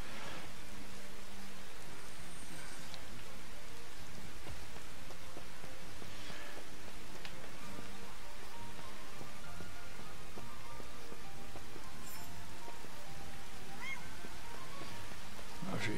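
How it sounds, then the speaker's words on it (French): Steady rain in the video game Final Fantasy XV patters and hisses continuously at moderate level, with scattered drips and a few faint honking calls in the background. "Ok, ça amène la pluie."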